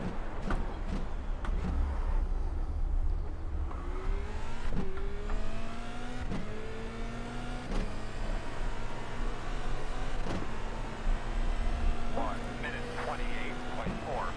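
A race car engine in a racing video game at Laguna Seca revs loudly and continuously, its pitch climbing and dropping through repeated gear changes with sharp shift breaks along the way.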